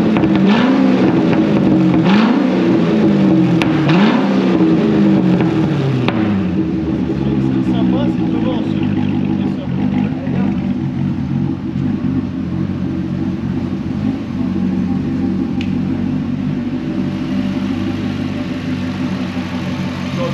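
A 1969 Camaro restomod with a stainless exhaust idles and revs, a steady close, deep rumble with a few rising revs early on, while people talk over it.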